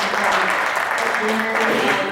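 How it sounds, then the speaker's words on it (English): A candidate forum audience gives a round of applause to the candidates, a short steady burst of clapping throughout, with some voices mixed in. "Let's give them a round of applause."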